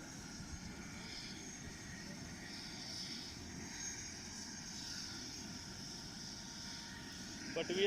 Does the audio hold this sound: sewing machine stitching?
no